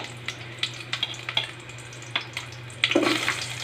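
Garlic sizzles in hot, smoking oil for Filipino sautéed vegetables: a steady, close frying hiss broken by sharper crackling pops, swelling louder near the end.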